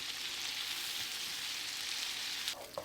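Garlic and butter frying in a hot pan with hot sauce and lemon juice, a steady close sizzle throughout with a brief stir or scrape near the end.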